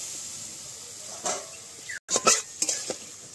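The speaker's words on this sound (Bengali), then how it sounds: "তো জল দিয়ে ভালোভাবে মশলাটাকে আমরা কষিয়ে নেব।" A spice paste with water is being stirred in a pot for a village-style rui fish curry cooked over a clay stove. There is a soft hiss and sizzle with a few brief scrapes and clinks of a utensil against the pot, close and quiet.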